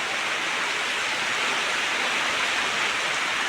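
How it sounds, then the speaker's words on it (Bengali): Heavy rain pours down in a dense, steady hiss in Kerala that stays constant from start to finish, with no voices. "প্রচুর পরিমাণে বৃষ্টি হচ্ছে"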